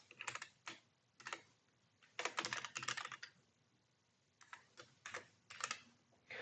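Someone types on a computer keyboard in uneven bursts of quick clicky keystrokes separated by short pauses, close and moderately quiet, with no talking.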